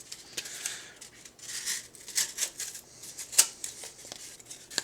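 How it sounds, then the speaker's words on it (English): A Chris Reeve Umnumzaan folding knife slices through cardboard, faint scratchy cutting strokes and crisp snips arriving in irregular bursts over a quiet background, with no voices. "Very good at the cardboard slice."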